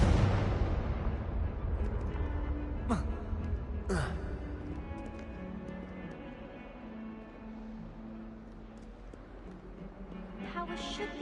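A Confringo fire spell explodes in the Hogwarts Legacy video game, two sharp blasts a second apart over a rumbling low hum with game music, followed by another crackle near the end.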